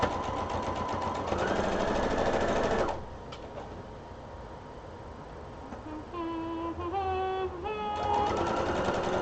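A home sewing machine runs steadily while stitching pin tucks on fabric, a close, dense mechanical whir for about three seconds, then stops; softer shifting and a brief rising whine follow.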